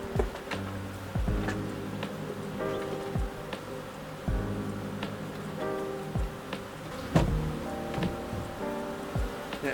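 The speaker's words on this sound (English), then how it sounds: "That sure is a lot of bees flying around." Honey bees fly around a backyard hive, their droning buzz steady and close with individual bees zipping past the microphone in louder swells.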